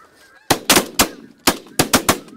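Snow geese honk overhead during a morning goose hunt, sounding as loud, close bursts in quick irregular runs of two and three calls against a quiet field.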